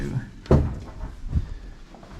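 A hotel room door in Scarborough is opened with one sharp, close clunk of the latch, followed by a softer knock and quiet room noise.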